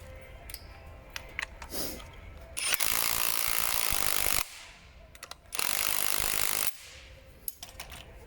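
A hand ratchet tightens the new nut on a Ford Fiesta Mk1 front shock absorber: two loud, fast bursts of rapid clicking, each lasting one to two seconds, with scattered metallic taps and handling noises around them.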